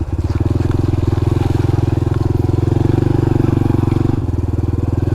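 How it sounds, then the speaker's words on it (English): A Honda Trail 125 Hunter Cub on skinny, non-aggressive tires rides through mud, its small single-cylinder engine chugging steadily and loud up close, with a brief dip in tone near the end. "Trail does pretty good through the mud despite the skinny, non-aggressive tires it has."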